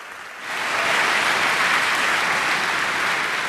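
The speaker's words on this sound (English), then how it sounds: "So please give a big round of applause for Thomas" Audience applause for three presenters at a hardware wallet hacking talk, swelling in after a brief quiet start and holding as steady, dense clapping from a crowd.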